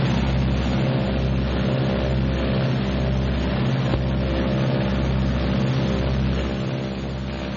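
Two engines of a 1944 Martin B-26 Marauder bomber run up together to about 1,800 RPM, producing a loud, steady, pulsing drone that fills the whole stretch without any voices.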